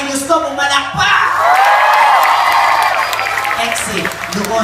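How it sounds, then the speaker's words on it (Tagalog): Comedy show audience clapping and cheering, a loud burst of applause with whoops and shouts that swells and holds, voices calling out over it. "Lahat ng may gusto, pumalakpak!"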